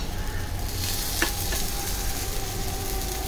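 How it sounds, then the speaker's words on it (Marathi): Pomfret fish frying in a pan over medium-high heat gives a steady, continuous sizzle throughout, with a brief sharper crackle partway through and no voices. "मीडियम टू हाय गॅसवरतीच फिशला आपण फ्राय करायचं आहे"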